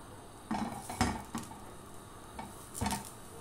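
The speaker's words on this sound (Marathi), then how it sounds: "अशा प्रमाणे वांगी आपल्याला भाजून घ्यायचे।" Brinjal is roasted in ghee in an iron pan, heard as a few distinct metallic clinks and scrapes of a utensil against the pan over a quiet, faint sizzle.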